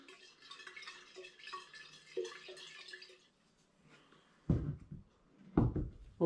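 Hard cider brew with floating yeast swished around in its fermenting vessel, giving soft sloshing water sounds, then two louder, closer liquid swirls near the end.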